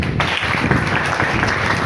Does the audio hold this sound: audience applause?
yes